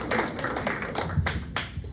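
Comedy club audience applauding during a stand-up set, scattered individual claps with a few sharper, louder slaps standing out over a low room murmur.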